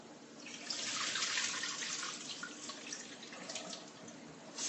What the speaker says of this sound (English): So when I said washing, you just wash it with some water.